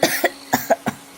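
An old woman coughs in a rainy-day Bengali cartoon scene, five short dry coughs in quick uneven succession, close and loud with no other sound.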